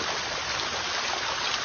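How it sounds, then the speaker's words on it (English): A small waterfall on a hiking trail in North Dakota gives off a steady, close rush of falling water, an even broadband wash with no voices over it. "it's the biggest waterfall"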